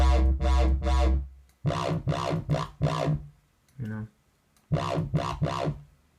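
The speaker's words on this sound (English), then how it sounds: "If you want, you could keep the distortion up, add a lot of resonance over here." A gritty, distorted acid-style synth bass made in Harmor plays short rhythmic notes with a resonant, buzzing tone, separated by brief gaps.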